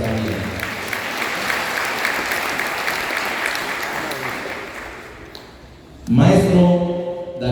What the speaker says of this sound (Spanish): Fuerte los aplausos también.